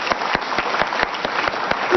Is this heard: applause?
yes